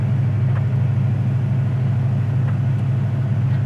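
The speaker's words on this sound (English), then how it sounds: "We'll let it warm up just a little bit. It's still on fast idle." A 1966 Ford Mustang coupe engine on fast idle, a steady loud low rumble held evenly throughout with no talk.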